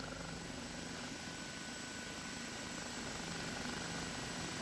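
Steady, distant OH-58 Kiowa helicopter rotor drone in a flight simulator, a constant whooshing blade slap, faint and unbroken throughout.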